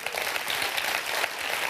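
Studio audience applause in a French televised talent show, a brief, steady wash of clapping heard throughout without talk.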